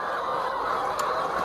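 A crowd of chickens cluck and murmur continuously, close by, with a brief sharper squawk partway through.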